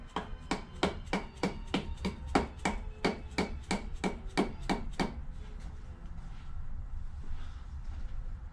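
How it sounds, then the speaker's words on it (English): About a dozen light, evenly spaced metallic taps strike a Phantom 3 engine part during dismantling, close and crisp, then stop, leaving quiet workshop rustling. "Sometimes you can give it a little tap and"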